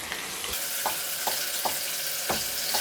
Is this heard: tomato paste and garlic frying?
yes